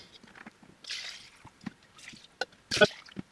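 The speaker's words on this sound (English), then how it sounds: "removing the top tray, and then pouring the first litre in" Liquid pours into the tank of a DWX 42W wet milling machine in brief splashy bursts, with trickles and drips between them, fairly close and moderately loud.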